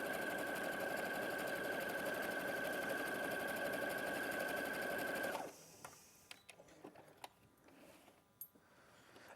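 A sewing machine stitches a lengthened 3.5 stitch in one loud steady run for about five seconds, then stops, leaving a few faint clicks and handling noises.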